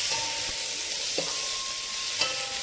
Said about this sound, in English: we're frying up to release the flavor.